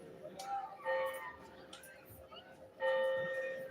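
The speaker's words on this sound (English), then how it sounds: "You hear the bell ringing." A bell rings out twice in a town street setting, each strike leaving a clear tonal ring that hangs briefly, faint against a quiet background with murmuring voices between the strikes.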